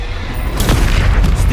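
A heavy, booming blast from the Bombarda spell in Hogwarts Legacy, loud and close, with a deep rumbling explosion swelling out of constant low-end game noise.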